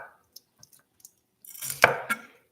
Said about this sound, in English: I'm just kind of chopping everything into similar sized pieces